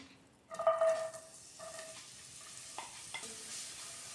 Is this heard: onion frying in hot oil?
yes